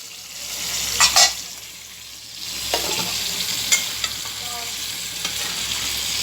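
Tomato, capsicum and onion fry in hot oil for a Chinese chicken curry, a steady sizzle with a few sharp spatters and stirring scrapes throughout.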